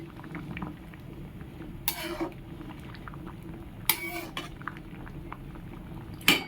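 Food simmers uncovered in a pot, with a quiet, steady bubbling broken by a few short, sharp bursts of noise and faint clinks.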